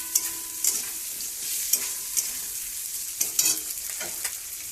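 Tomatoes frying with spiced masala in a pan, a continuous sizzle broken by repeated scraping stirs of a spatula, close and fairly loud.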